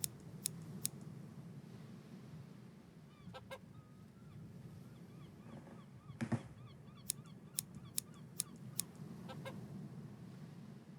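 Hen clucking and honking inside a hen house in the video game The Hand of Glory, with a few sharp squawks over a steady low ambient hum and some clicky transients, no speech.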